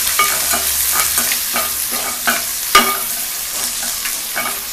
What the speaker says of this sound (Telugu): ఉల్లిపాయ ముక్కలు కూడా కొంచెం ఫ్రై అవ్వాలి.